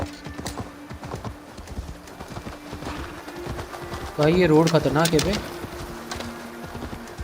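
Rapid rhythmic horse hooves clip-clopping on a road in the video game Assassin's Creed Valhalla, steady throughout, with someone speaking over it midway and faint bird coos in the background.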